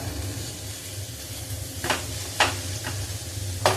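Chicken keema frying and being mashed in coconut oil, a steady low sizzle broken by three or four sharp scraping stirs of a utensil in the pan, close and clear.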